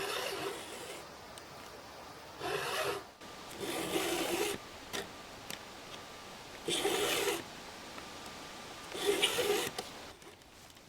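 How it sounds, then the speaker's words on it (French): A hand file sharpens a saw's teeth in a home woodworking setting, giving repeated rasping strokes in short bursts separated by pauses, moderately loud and close with no talk over them. "C'est comme ça qu'on affûte une scie"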